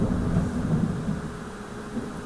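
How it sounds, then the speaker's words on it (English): Thunder rumbles outside as a low, continuous roll heard from indoors, fairly steady and slowly fading over a couple of seconds. "wow, it's thundering outside."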